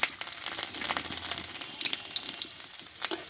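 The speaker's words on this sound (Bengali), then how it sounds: "দেখো রসুনটা আমি ভালোভাবে একটু লালচে করে ভেজে নিয়েছি" Dried red chili, nigella seeds and whole garlic cloves fry in mustard oil, giving a continuous close sizzle with crackling pops and the occasional scrape of stirring.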